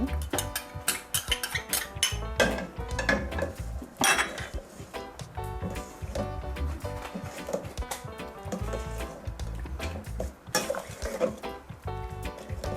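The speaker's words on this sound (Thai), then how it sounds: "คนให้น้ำพริกเผาละลายค่ะ" Coconut milk and chili paste are stirred in a pot with repeated close metallic clinks and scrapes of a spoon against the pot, heard over steady tonal background sound.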